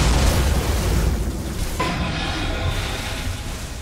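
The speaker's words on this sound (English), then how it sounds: "Radiant's middle tower has fallen." A Dota 2 tower collapses in a heavy, sustained roar of rumbling debris and blasts, loud and dense throughout with a sharp crack partway through.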